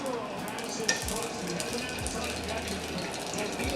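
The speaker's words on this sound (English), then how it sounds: "That sizzle means we're good to go" Tofu sizzling in hot oil in a pan during a Sichuan vegan stir-fry: a steady, moderate frying hiss runs throughout, with a few light clinks from the pan.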